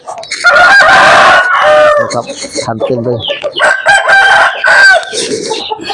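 Fighting roosters at the Phet Khaeng Thong cockfighting camp crow loudly and close by, with long, strained calls overlapping and clucks between them, while someone talks.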